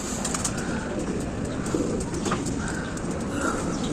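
Pigeons coo softly and repeatedly against a steady outdoor hiss, with faint chirps in the background.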